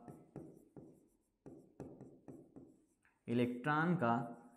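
Chalk or marker strikes a board during a physics lecture in a series of short, distinct taps and strokes, roughly eight of them, before a voice speaks loudly at the end.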